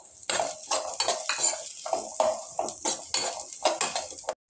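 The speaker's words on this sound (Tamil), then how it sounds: "வெங்காயம் பூண்டு வதங்கிடுச்சிங்க." Onion and garlic are stirred and sautéed in a pan while a spoon scrapes the metal in repeated close strokes over a light sizzle, with no talking, then the sound stops abruptly.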